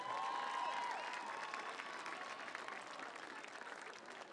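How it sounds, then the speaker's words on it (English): Crowd applause at a high school homecoming event during a football game, broad steady clapping from a distance with a few cheers and whistles early on, gradually settling. "let's have a nice round of applause for these lovely ladies and their escorts"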